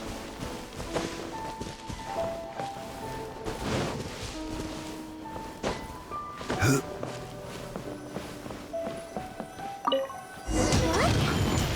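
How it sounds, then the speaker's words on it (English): Fireworks burst in the video game Genshin Impact, a busy run of thuds, cracks and crackling pops spread across the clip, ending in a louder sustained blast. "What firework is this?"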